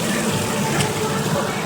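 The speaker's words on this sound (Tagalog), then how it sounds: "Parang galing sa sa talon. Yung tubig." Water falls at a waterfall in Bali as a dense, steady rushing roar that fills the scene without pause, with voices talking faintly under the noise.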